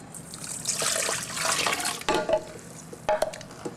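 Yeast and sugar are stirred into warm water for French bread, with close-up liquid swirling and splashing and a few sharp clinks of a utensil against the bowl near the end.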